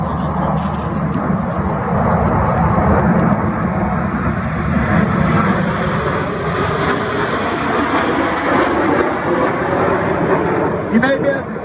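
Loud, continuous roar of a jet aircraft at an RAF Cosford air display, a colourful Big Vixen with air brakes out, sustained broadband rumble throughout with crowd noise and a voice faintly underneath.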